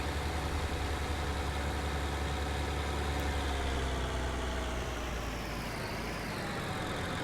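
A farm vehicle's engine idles steadily in a Farm Sim video game, a continuous low rumbling drone close by with no talk over it.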